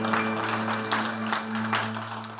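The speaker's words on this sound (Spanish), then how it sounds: "Dele ese aplauso fuerte al Señor, porque Él es bueno." A church congregation claps during a worship service, a broad, even patter of many hands over a sustained low organ or keyboard drone, moderately loud and continuous.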